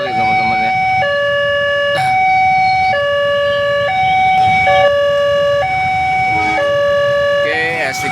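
A railway horn sounds near a busy level crossing as a train approaches, sustained tones alternating between two pitches in roughly one-second steps, loud over road traffic noise.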